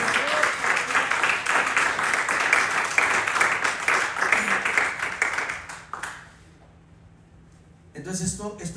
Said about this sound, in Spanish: ¿Cuántos le pueden dar un aplauso al Señor Jesucristo?